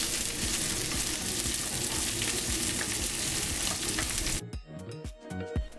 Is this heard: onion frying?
yes